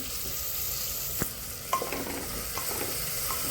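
Spices and peas sautéing for Indrayani rice masale bhat: a continuous soft sizzle in the pan with a few sharp clinks and scrapes of stirring, close and without speech.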